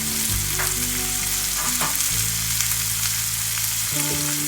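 Okra, added after mustard seeds and urad dal, frying in oil with a steady, close, dense sizzle, an even crackling hiss throughout with faint stirring underneath.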